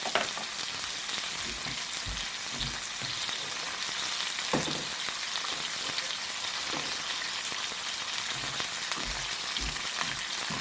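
Stuffed salmon fries in a pan as its second side browns, giving a steady, close sizzle with occasional pops and crackles that runs alone the whole time.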